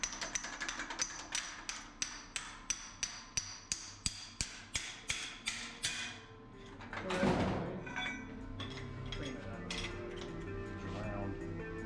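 A hammer strikes a piece of metal tubing while frame rails for a Model A are built, about eighteen evenly spaced, moderately loud blows, followed by a duller scraping clatter and quieter shop noise.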